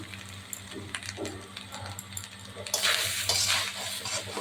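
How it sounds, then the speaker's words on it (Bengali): Grated coconut is stirred in a pan, soft scraping and light clinks at first, then a louder burst of sizzling and scraping near the end, close and without talk. "নারকেলটা একটু নেড়ে নেব।"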